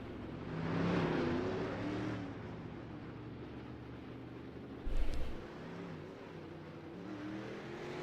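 Race cars roll around a track on a warm-up lap, engines swelling and fading as they pass at a distance, with a brief louder burst midway and no voices.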